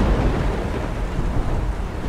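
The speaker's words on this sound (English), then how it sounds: "I think the storm's coming right for us!" Deep rumbling thunder from an approaching storm, a steady loud low roar with a dense hiss of rain or wind, continuous for about two seconds with no voices.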